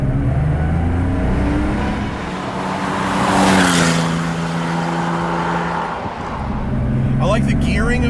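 Porsche 911 Safari driving through city streets, engine rising and falling steadily as it accelerates and shifts, loud and close from inside, with a brief voice near the end.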